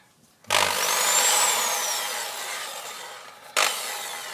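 A nearby electric hammer drill, switched out of hammer mode, whirs steadily for about three seconds, slowly winding down, then starts up again with a fresh burst.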